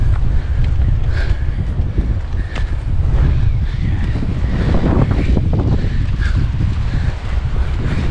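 Strong wind buffets the microphone at a seaside fishing spot in Bowen, Queensland, a loud, steady low roar with gusty rustling throughout and no talk.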